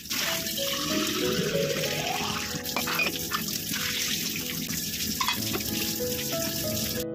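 Tap water runs steadily into a vessel as lentils are washed in a home kitchen, a continuous splashing gush with small clinks and trickles throughout.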